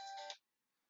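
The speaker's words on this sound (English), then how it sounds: "Sorry, y'all. Hold on, my phone ringing." A phone ringtone sounds loud and bright for under half a second, then cuts off abruptly into near silence with faint background noise.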